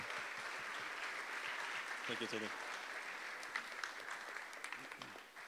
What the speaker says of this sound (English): So let's give a round of applause for Florian.